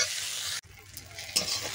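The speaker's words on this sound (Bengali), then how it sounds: "এই যে পেঁয়াজ ভাজা করেছি" Onions frying in a small amount of oil for a meat curry, a steady broadband sizzle with stirring, broken by a brief pause partway through and a sharper scrape near the end.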